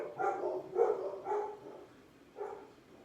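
Several muffled dog barks sound from across a room, four short woofs in an uneven rhythm with a pause before the last, quiet and distant.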